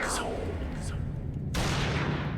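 Gunfire in the video game Yakuza Kiwami crackles in dense bursts, loud and continuous, with sharper shots cutting through near the start and again toward the end.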